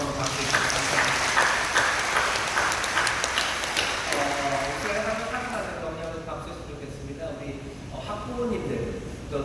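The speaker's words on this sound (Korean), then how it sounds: "다시 한번 박수 주시기 바랍니다" Church congregation applauding at a Friday night service, broad clapping filling the first several seconds, then thinning as voices and talk take over near the end.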